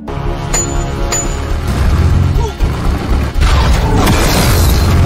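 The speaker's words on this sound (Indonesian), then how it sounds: "Tiger Tank pun langsung menembaknya" Tiger tank cannon fire in a war film about Russian T-34s fighting German tanks. Loud heavy booms and crashes land among rumbling mechanical clanks, with a large blast near the end.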